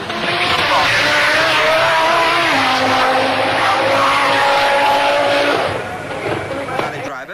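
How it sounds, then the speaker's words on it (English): A works Audi Quattro Group B rally car with a new automatic gearbox blasts past. A loud engine note holds steady, then shifts in pitch and fades near the end. Race commentary talks over it. "contrast the new automatic gearbox works Audi Quattro of Walter Röhrl and just watch it go"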